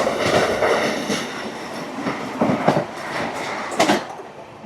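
An NJP–Howrah Vande Bharat Express rushes past a crossing at high speed, a loud, close roar of wheels with rhythmic clattering bursts and whooshes as carriages pass, sustained throughout.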